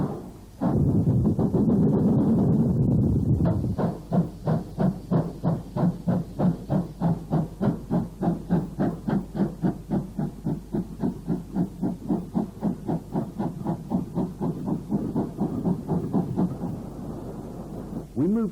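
GWR steam locomotive 7911 Lady Margaret Hall works at Oxford on an old archive recording. A rush of steam gives way to loud, steady exhaust chuffs beating rapidly and evenly, close by and alone.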